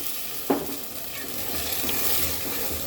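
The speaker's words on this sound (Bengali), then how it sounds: "এবার মিক্সড করে দিলাম এবার মশলাটাকে আরও কয়েক মিনিট সুন্দর করে কষাবো ঠিক এইভাবে" Spice masala for a katla fish curry with potatoes sizzles steadily in a pan, with a sharp stirring scrape near the start and continuous close frying hiss after it.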